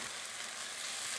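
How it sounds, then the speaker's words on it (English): Chicken stock with garlic at a rolling boil in a pan. It makes a steady, dense, close-up hiss of bubbling and sizzling with no talk. "Where it is right now is boiling."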